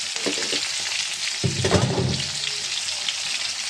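Hilsa fish crackling and sizzling in oil nearby, a continuous hiss with a brief utensil clatter in the middle.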